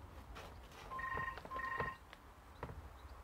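From inside a house, a telephone gives one double ring of two short paired tones, faint and distant, with soft outdoor background noise and no speech.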